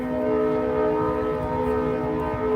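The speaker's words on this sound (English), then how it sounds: "And sorry about the train. I have a train that goes right by my house." A train passes right beside a house, its steady rumble filling the scene with a sustained, horn-like tonal drone layered over the rolling noise throughout.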